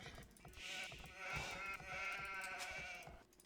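Several sheep bleat in a real-time strategy game, wavering calls overlapping at moderate level over faint hoof-like tapping, with no talk over them.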